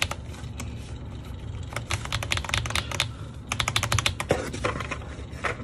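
Mechanical keyboard with Holy Panda switches on a PC plate and Cherry-profile PBT keycaps, typed in quick bursts of clacky keystrokes, some rapid runs and short pauses, close and clear without talk.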